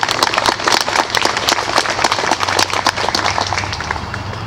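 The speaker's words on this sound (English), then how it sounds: "let's give a round of applause to those who decorated it" A crowd claps outdoors at a Memorial Day ceremony in a courthouse park, a steady patter of many hands that holds at an even level throughout.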